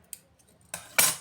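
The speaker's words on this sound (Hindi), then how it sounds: "अब इसको ये धागा को काट लिए" Scissors cut thread for salwar stitching: a faint metallic tick, then two sharp close snips in quick succession.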